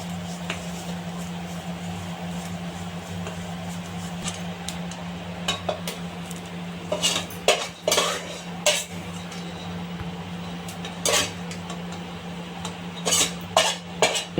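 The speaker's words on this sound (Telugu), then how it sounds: "అలా వేసి నేతిలో వేపుకోవాలి" Chana dal fries in ghee in a pan with a low sizzle under a steady hum, while a spoon stirs with scattered metallic scrapes and clinks that grow busier in the second half; no voices.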